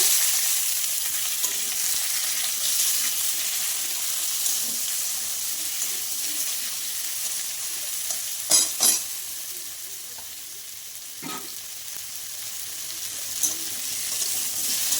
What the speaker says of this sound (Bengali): এগুলোকে এবার আমি ভালো করে ভেজে নেব